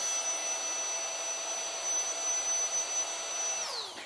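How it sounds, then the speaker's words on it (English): A small travel vacuum sealer pump whines steadily and close as it pulls air out of a bag, its high tone holding evenly before dropping away as the motor winds down at the end. "It's still going, still pulling some of the air out."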